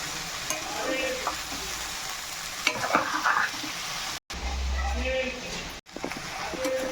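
Okra (bhindi) fries uncovered in a pan with a steady, close sizzle, broken by scraping stirs and two very brief dropouts.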